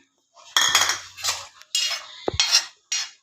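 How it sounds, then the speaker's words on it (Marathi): A metal spoon scrapes and clinks against a pan while gram flour (besan) is dry-roasted and stirred, giving several distinct bursts of scraping with short gaps between them, close and clear. "सर्वात अगोदर बेसन पीठ भाजून घ्यायचं"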